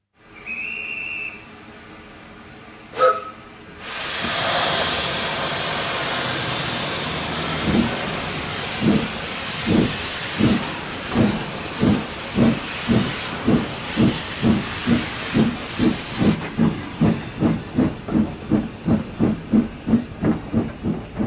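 A steam locomotive sounds a short whistle, lets out a long loud hiss of steam, then chuffs in a steady rhythm that gradually quickens.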